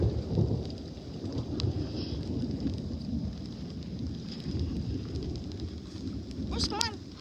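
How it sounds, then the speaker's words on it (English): Heavy rain pours down outdoors in Texas, a dense steady hiss with occasional rumbles, while people talk briefly nearby and a bird chirps near the end. "It's so rainy."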